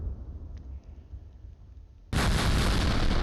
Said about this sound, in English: enemy called in artillery there